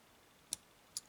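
Two sharp, faint metallic clicks about half a second apart as pins set while a TESA T10 ten-pin dimple lock is picked, heard alone against quiet background.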